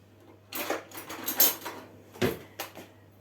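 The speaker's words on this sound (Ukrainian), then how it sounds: "наколюємо вилочкою" A handful of quick scraping taps, like a fork pricking soft dough on a tray for a cheese pie, spaced unevenly over a few seconds against a low steady hum.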